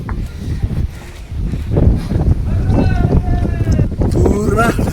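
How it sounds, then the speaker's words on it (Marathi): Strong wind buffets the microphone on a foggy, rain-soaked mountain trail up Jivdhan fort, a loud rumbling gusty roar throughout, with a faint voice briefly audible beneath it. "आणि हा वारा पण सुटलेला आहे"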